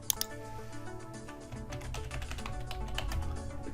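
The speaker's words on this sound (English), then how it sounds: "So I'm going to type in terrain" Someone types a search into a computer keyboard, giving a short run of quick, light key taps over a low background hum, with no talking.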